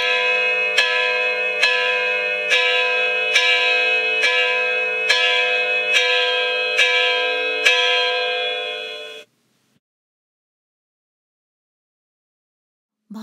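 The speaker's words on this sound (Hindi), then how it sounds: "और उसी समय जोर जोर से घंटी बजी" A bell rings loudly and repeatedly in a steady rhythm, about a dozen strokes, then stops abruptly, leaving silence.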